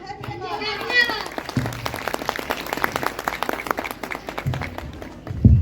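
An audience claps for a City Montessori School children's performance at a Ranikhet cantonment board event, a burst of close, patchy applause that follows a voice speaking and continues under chatter.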